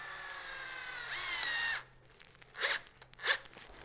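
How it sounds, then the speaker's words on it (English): Power drill driving screws with washers through soft rubber into a DIY deadlift platform over a concrete floor, heard as a sustained whirring run that winds down, then two short bursts of drilling, close and loud with no talk. "Now I'm going to drill"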